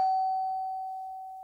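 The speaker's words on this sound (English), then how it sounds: "Oh, that's the doorbell." A doorbell gives a single clear electronic chime, a pure ringing tone that slowly fades over a second and a half, heard alone in a quiet room.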